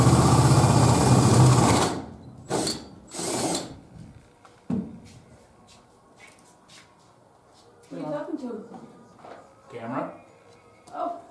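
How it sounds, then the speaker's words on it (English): A power drill whirs loudly in one sustained burst through plywood, then shorter bursts follow with quieter handling noises and some talking in between. "mark where your drill goes"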